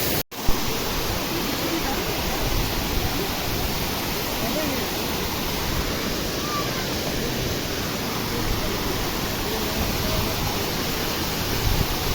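Cold water rushing down a waterfall in Pakistani Kashmir, a steady, dense roar that stays close and loud for the whole stretch with no pauses.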